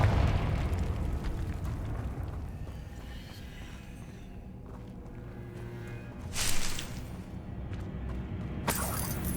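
A Confringo blasting spell goes off in the Hogwarts Legacy video game: a rumbling, crackling explosion that stays loud throughout, with a sharper swell of blast around the middle and another burst near the end.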